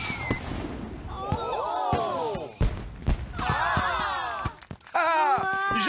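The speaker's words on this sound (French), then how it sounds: "Et maintenant, place au feu d'artifice géant." Cartoon fireworks in Ben and Holly's Little Kingdom: rising whistles and wailing tones swoop up and down between sharp pops and bangs, a busy, continuous barrage.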